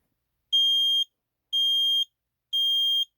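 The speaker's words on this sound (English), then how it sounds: "First up is the kitty smoking carbon monoxide alarm." A kitty-shaped carbon monoxide alarm sounds three loud, even high-pitched beeps, each about half a second long with equal pauses between, close and alone.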